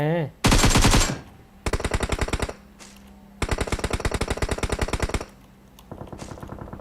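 Automatic gunfire rattles in PUBG Mobile, loud and close: one long burst, then several rapid bursts separated by short pauses, and a quieter burst at the end, with no speech.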